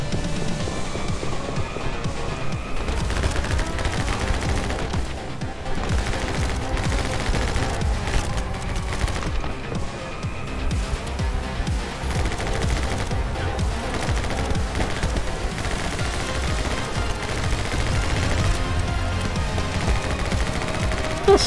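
Dense, continuous gunfire from the action video game My Friend Pedro, rapid fusillades and machine-gun-like bursts with game music underneath, loud and unbroken throughout.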